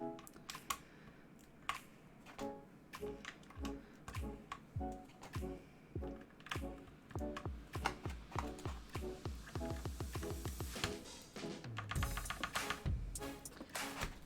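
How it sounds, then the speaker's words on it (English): Keys are typed on a Discipline65 mechanical keyboard with white keycaps, giving a close, quiet run of soft clacks and ticks in irregular bursts that quicken into a dense flurry toward the end, with no talking. "this board's actually not going to be as clicky as like one if you use like clicky switches"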